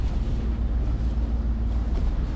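A sailboat's motor runs at sea at midnight in a calm with sargassum around, a steady low droning rumble mixed with wind and water noise, continuous and fairly close, with no voices.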